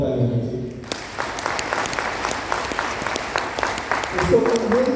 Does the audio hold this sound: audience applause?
yes